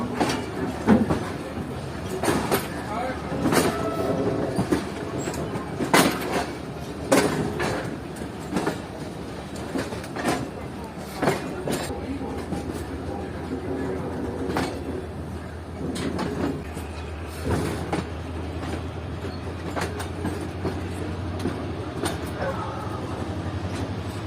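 A Pakistan Business Express train rolls through a sharp curve at Karachi Cantt railway station behind a ZC-30 locomotive with new coaches, wheels clattering in irregular bursts over the rails amid steady rumble, with a low engine drone joining later.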